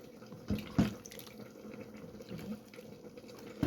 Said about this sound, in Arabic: هزودها بقى ميه كده